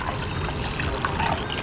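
A splash of water pours into a sauce mixture of miso paste and seasonings for a shrimp stir-fry, a brief close trickle and gurgle lasting under two seconds with no talking.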